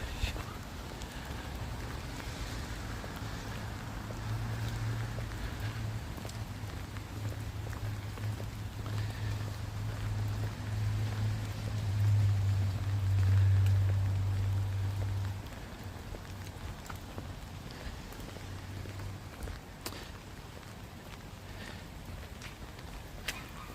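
Steady rain falls on a night street in Kawasaki, Japan, a constant close hiss with low rumbling swells, probably passing traffic, in the middle section; no talking.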